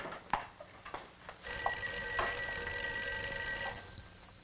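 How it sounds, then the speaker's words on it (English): An office telephone rings in a steady, continuous electronic trill that starts after a second of quiet room sound and carries on close and clear with no talking over it. "I think your phone is ringing."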